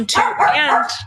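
A dog barks twice in quick succession close to the microphone, sharp and loud, a short yip-like pair cutting into a podcast conversation.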